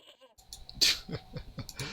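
A tethered goat bleats in the video game Broken Sword: Shadow of the Templars, a few short, nasal bleats heard close and clear against near silence.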